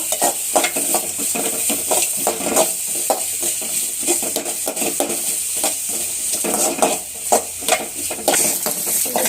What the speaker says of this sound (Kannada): ಅದನ್ನು ಚೆನ್ನಾಗಿ ಸ್ವಲ್ಪ ಕಲರ್ ಚೇಂಜ್ ಆಗೋವರೆಗೂ ಹುರ್ಕೊಬೇಕು